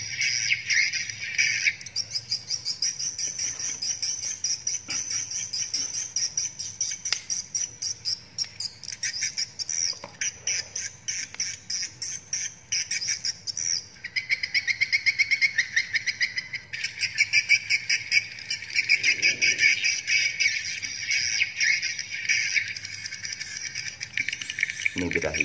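A bird in breeding condition gives a continuous, high, trilling call in long rhythmic bursts, close and fairly loud, with faint voices now and then underneath.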